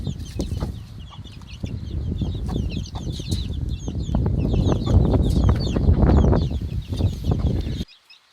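A turkey hen and roughly two-week-old chicks rest in a coop after a dust bath. Dense, continuous peeping and soft clucking come from close by and build steadily before cutting off abruptly at the end.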